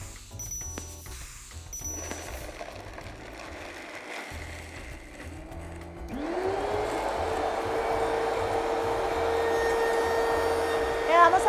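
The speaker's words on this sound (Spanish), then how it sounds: "Y ahora vamos a ponerlo a licuar." A kitchen blender whirs up as it purées basil for Italian pesto sauce, with a steady motor whine starting partway through after some clattering and handling noises.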